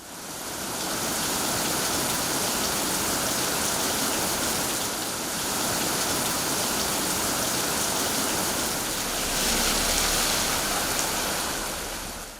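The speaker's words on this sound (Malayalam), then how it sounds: "ഒറ്റപ്പെട്ട മഴ തുടരുകയാണ്" Steady rain pours down in Idukki, Kerala, a dense, continuous hiss of falling water that stays loud and even throughout, with no voices over it.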